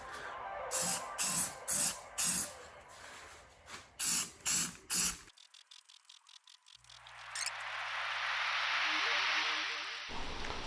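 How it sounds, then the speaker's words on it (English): Aerosol spray paint laid onto 4x4 alloy wheels as a heavier, wetter second coat: a row of short spray bursts, then one long steady hiss close by. "So we are ready for our second coat on the wheels now."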